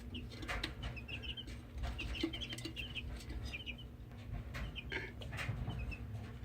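Chickens cluck and chirp softly in scattered short calls at moderate distance over steady background noise, with no one talking.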